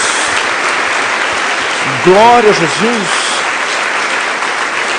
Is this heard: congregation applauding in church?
yes